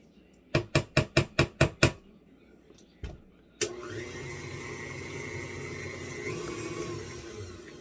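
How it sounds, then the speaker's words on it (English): Cookie dough for copycat Crumbl s'mores cookies mixed in a bowl: seven quick, evenly spaced knocks, a lone tap, then a steady, fairly loud whirring hum that runs to the end. "Just going to give it another stir."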